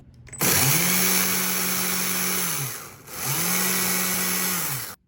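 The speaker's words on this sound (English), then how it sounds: "Now we're gonna test this unit, make sure it's running like it should be." Stihl MSA-120C battery chainsaw is run in two close bursts, each spinning up quickly to a steady high whine before winding down.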